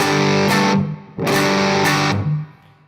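Distorted electric guitar through a Spaceman Nebula fuzz pedal on its normal tone setting plays two sustained, buzzy chords, each ringing out then cut off, with a thick, fuzzy tone.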